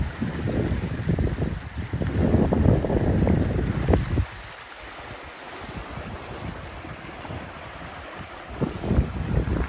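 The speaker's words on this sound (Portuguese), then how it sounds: "Vamos ouvir o som da água." Water rushing through the São Francisco river transposition canal near Cajazeiras, Paraíba, a loud broadband roar mixed with wind buffeting the microphone, dipping quieter midway before swelling again.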